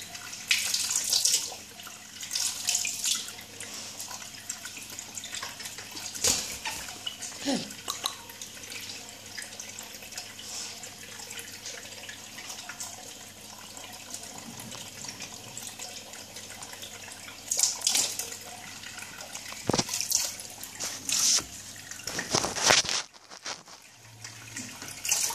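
A tap runs steadily while an African grey parrot is showered, giving a continuous splashing flow with occasional louder bursts and drips. It lasts throughout and there is no talk.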